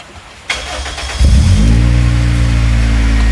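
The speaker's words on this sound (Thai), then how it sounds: "อ่ะสตาร์ทดูก็ได้ครับ" A Toyota Corolla AE92 with a 2ZZ-GE engine, automatic, starts up: a short starter crank, then the engine catches into a loud, steady idle close by with no talk.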